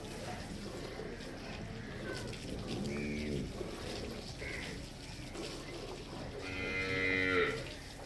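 Low, drawn-out moos from a water buffalo at moderate distance over steady outdoor background noise, with a voice talking faintly at times.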